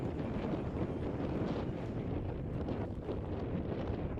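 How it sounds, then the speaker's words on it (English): Strong wind buffets the microphone in a constant, loud roar at an off-road race qualifying in Baja, with no other clear sounds over it. "the wind is really picking up out there"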